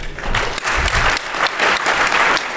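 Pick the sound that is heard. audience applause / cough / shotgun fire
audience applause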